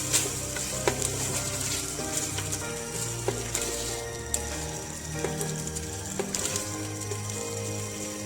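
Mutton karahi masala frying with yogurt, a steady sizzle with scattered metallic clinks and scraping under a constant hiss, no talk.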